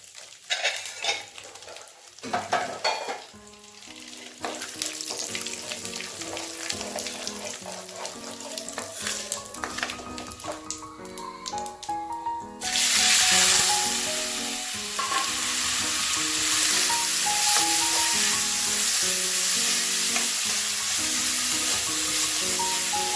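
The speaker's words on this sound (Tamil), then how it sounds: "வெங்காயத்தை நல்லா வதக்கணும்" Onions sautéing in a pan with bay leaf, cinnamon and cloves for paneer butter masala, a steady sizzle with repeated scraping and clinking of a spoon against the pan, growing louder and more intense partway through.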